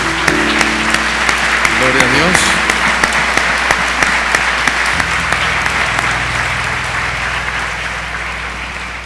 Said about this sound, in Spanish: Demos un aplauso a las mujeres.